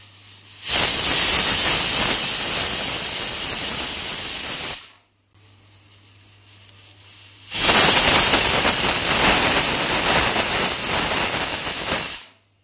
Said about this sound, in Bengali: এবার দেব কয়টা সিটি, একদম নরম করে সেদ্ধ করব